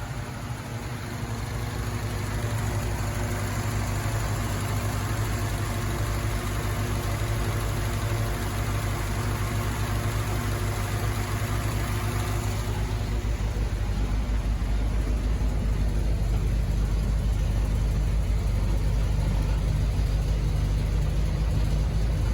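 A 1950s-era M38A1 Willys military jeep engine, just fired up after the carburetor was primed, runs at a steady, loud idle with a constant low rumble and a slight shift in tone partway through.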